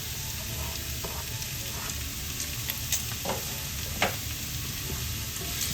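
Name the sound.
red onions sautéing with golden brown garlic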